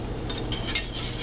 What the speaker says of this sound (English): I'm just stirring this while it's cooking on the medium-low heat